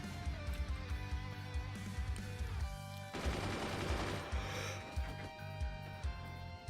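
Cannons fire in the Forts strategy game, a rapid rhythmic series of low thumping shots repeating under a steady musical backdrop, with a louder burst of impacts near the middle.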